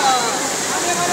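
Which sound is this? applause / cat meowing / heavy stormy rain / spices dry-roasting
heavy stormy rain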